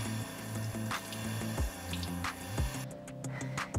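Water runs and splashes steadily at a bathroom sink while a face is rinsed during a nightly skincare routine, close and continuous with soft irregular splashes.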